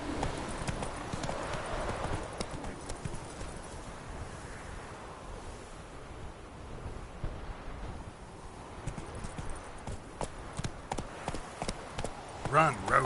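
Geralt's horse Roach gallops in The Witcher 3, a rapid hoofbeat rhythm with wind rushing past and a voice speaking over it.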